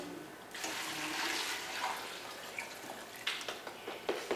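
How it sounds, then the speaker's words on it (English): Liquid pours into a pot of chicken avocado soup, a continuous splashing gush that starts abruptly and then tapers into scattered drips and small splashes, moderately quiet and close. "I'm just going to pour this right in."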